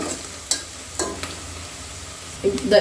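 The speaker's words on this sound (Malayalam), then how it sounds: "നല്ലോണം ഒന്ന് ഇളക്കുക നന്നായി ഇളക്കണം കരിയരുത്" Spices are stirred in a pan for chicken biryani: several sharp scraping strokes of a spoon against the pan over a low, steady sizzle.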